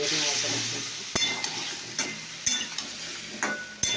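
Potatoes and egg curry stirred in a frying pan, a soft sizzle under repeated sharp clinks and scrapes of the spoon against the pan at irregular intervals.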